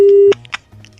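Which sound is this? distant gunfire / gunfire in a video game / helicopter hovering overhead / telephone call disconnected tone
telephone call disconnected tone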